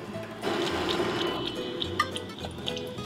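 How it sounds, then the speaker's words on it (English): Running water rinses an aluminum part being anodized, a steady splashing flow that starts abruptly and continues with small drips and spatters, close and alone. "We rinse it off with water."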